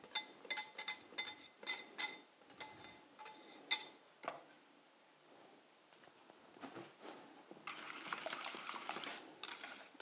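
Egg mixture poured into a bigger container and mixed for Thai curry crab, with repeated clinks and taps of utensils against the container, followed by a steady liquid pouring wash near the end.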